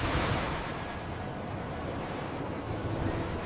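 Sea waves in an animated cartoon roll as a steady wash of surf, a continuous roar with faint wind-like hiss.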